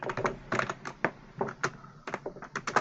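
Computer keyboard keys clack in quick, uneven bursts of close, sharp taps, ending with Shift and Enter presses, with no voices.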